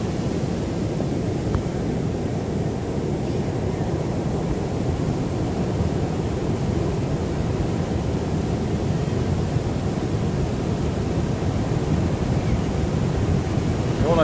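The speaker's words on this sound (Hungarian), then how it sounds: "Jó nagy hullámok vannak." Big ocean surf roars continuously at Piha, New Zealand, a broad steady wash of breaking waves mixed with wind buffeting the microphone.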